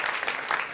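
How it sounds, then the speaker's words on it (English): A stand-up comedy show audience breaks into brief, brisk applause with scattered cheering, a short dense burst of clapping in a club setting. "Pre-applause, I like it!"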